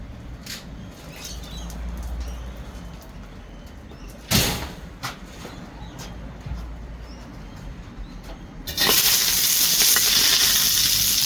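Satay chicken frying in a wok over a fierce wok burner, a steady close sizzle with a clatter near four seconds, then a louder, brighter hiss from about nine seconds as more heat or food hits the pan.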